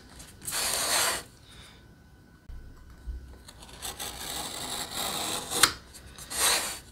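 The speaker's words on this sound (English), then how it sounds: "Cutting around on the lines for the box, trying to stay on the line as much as possible." Drywall being cut along marked lines for an electrical box during a homeowner patch job: bursts of close, raspy scraping and sawing strokes, separated by quieter pauses and small handling knocks, with no talking.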